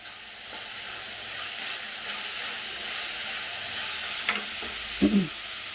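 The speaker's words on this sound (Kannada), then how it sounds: "ನೋಡಿ, ಈ ಥರ ಫ್ರೈ ಆಗಬೇಕು ಚೆನ್ನಾಗಿ." Onions frying for Karnataka-style onion saagu, a steady close sizzle and hiss running throughout, with a few brief scraping stirs near the end.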